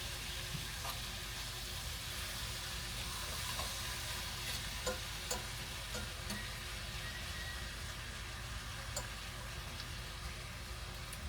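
Butter sizzling steadily in a hot pan while cooking a steak dinner, a continuous close hiss with faint crackles and occasional small ticks of a utensil, no talking.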